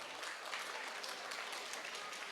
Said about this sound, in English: I request audience to appreciate our children with your big round of applause.